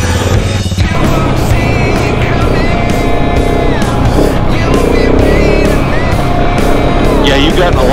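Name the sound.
KTM 690 and Husqvarna 701 motorcycles riding off-road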